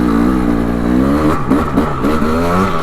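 A 2025 KTM 300XCW Champion Edition two-stroke dirt bike revs in snow, its engine buzzing loud and close with fluctuating pitch as the throttle blips and the rear wheel struggles for traction.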